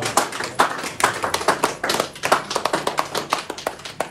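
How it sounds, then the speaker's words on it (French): A crowd applauding the newlywed couple at a church nuptial blessing, brisk, dense hand clapping that carries on steadily and close by. "on peut acclamer pour le mariage"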